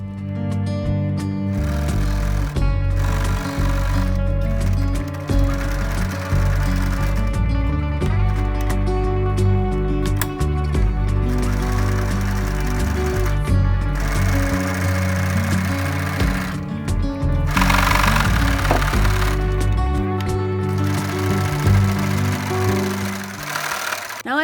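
A home sewing machine stitches the lining of handmade embroidered winter boots to the uppers, running in a steady, continuous mechanical whir with rhythmic needle chatter, close and fairly loud throughout.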